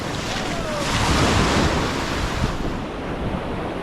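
Ocean surf breaks on a surfing beach, a loud continuous wash of waves with heavy wind buffeting the microphone and no talk.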